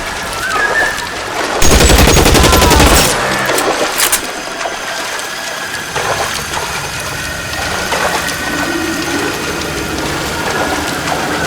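Gunfire in the video game LA Noire, a loud dense burst of shooting near the start, followed by scattered sharper shots over steady, continuous background game noise.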